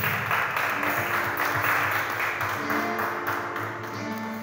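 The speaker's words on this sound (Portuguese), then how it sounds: "aplauda ao Senhor bem forte" A church congregation claps loudly and steadily, a dense wash of applause with a faint sustained musical tone running underneath.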